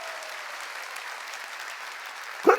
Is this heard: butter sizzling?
no